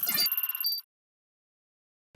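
An electronic phone ringtone gives a short burst of rapid warbling tones that cut off after under a second, followed by near silence.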